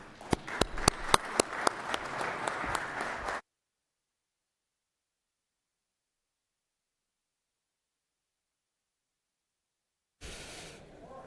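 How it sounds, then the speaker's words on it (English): A brief round of applause in the Georgia Senate chamber: several sharp, quick claps blending into steady clapping for about three seconds, then cutting to silence before faint room noise returns. "we'd like to give you a big round of applause"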